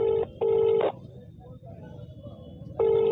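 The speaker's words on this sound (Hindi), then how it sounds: "सीधे हम फोन लाइन पे प्रधान से" An outgoing phone call connecting over a line, with repeated electronic ringing tones in short bursts, a pause, then another tone, heard close over low background hiss.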